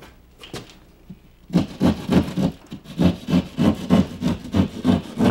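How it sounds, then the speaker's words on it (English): A utility saw cuts through a scrap drywall patch along a traced outline, giving a steady run of rhythmic back-and-forth rasping strokes, close and loud, after a few quieter scrapes at the start. "I trim to the outline with my utility saw, cutting out the damaged area"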